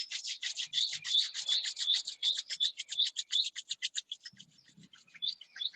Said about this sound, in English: Rub your both the palms.